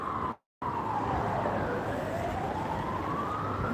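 An ambulance siren wails in a slow rising and falling sweep, fairly faint and steady, alone with no talk, after a brief dropout at the start.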